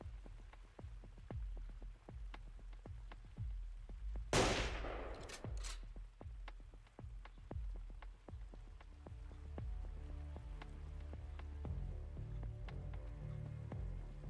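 Gunfire in the game Long Gone Days comes as a long series of sharp, evenly spaced shots, fairly faint, with a brief louder burst of noise partway through.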